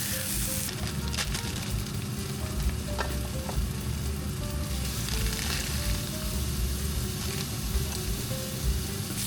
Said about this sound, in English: Lay the steak into the pan and lay it away from you, as Gordon Ramsay said.